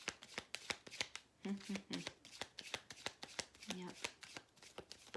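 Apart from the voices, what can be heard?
shuffling tarot cards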